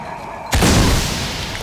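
A single sudden gunshot impact in the Shadow of the Tomb Raider video game, a loud broadband blast that rings out and sustains as a dense roar after a quiet lead-in.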